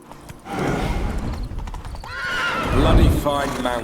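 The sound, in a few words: horse neighing and hooves in video game The Witcher 3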